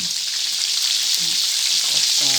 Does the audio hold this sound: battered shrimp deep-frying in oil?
yes